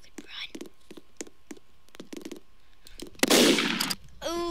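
Gunshot in the Roblox-style video game Murder Mystery 2: a single loud burst of game gunfire near the end of the clip, following a run of soft repeated clicks or footsteps, with faint whispery voice around it.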